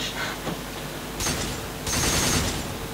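Gunfire in Devil May Cry 4, a few rapid bursts of shots, loud and close, separated by brief gaps with faint background game sound.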